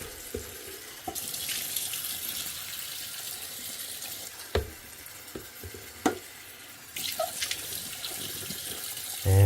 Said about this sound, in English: And then just give it a quick rinse.